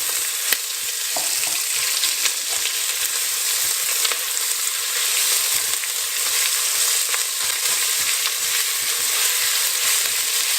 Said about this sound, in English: I'm going to start frying off our onions, garlic and ginger